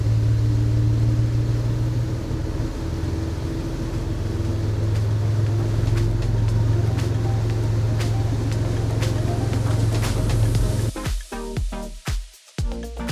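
Twin diesel engines of a 2006 Pama 62 Pilothouse yacht drone with a steady low hum that builds slightly as they power up, ending with a few sharp thumps and bursts near the close; no talk.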